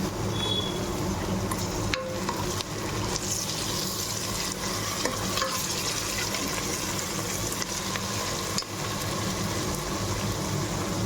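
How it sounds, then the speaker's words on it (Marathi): Coriander leaves stirred into vegetable pulao in a pan, a steady close hiss and soft scraping of a spoon through the rice with a few sharper clinks against the pan, no talking. "आता यामध्ये मी आपण जी घेतलेली कोथिंबीर होती ती कोथिंबीर घालते"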